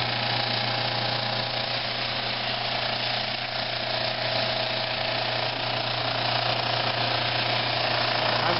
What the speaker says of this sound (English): So I've got a little fence installed on the drum sander. We're going to use it as an edge sander right now.